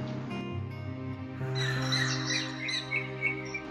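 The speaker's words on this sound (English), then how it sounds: "the female tailorbird came with chirps" A female tailorbird chirps, a cluster of quick high tweets over a steady background hum, fairly close and clear.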